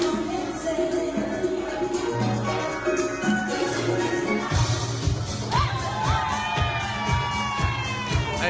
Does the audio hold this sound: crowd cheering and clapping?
yes